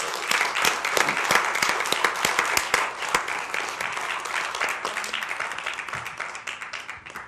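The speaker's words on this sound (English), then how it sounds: "let's give our panelists another big round of applause" Crisp, loud round of applause for panelists at a money-in-politics symposium in Manchester, New Hampshire; many distinct claps ring out strongly, then gradually thin and fade toward the end.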